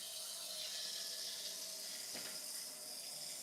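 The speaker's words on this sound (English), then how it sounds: "fill up the water." A kitchen tap running water into a large stockpot for beef pho, a steady close hiss of flowing water that holds evenly through the whole short stretch, with no voices.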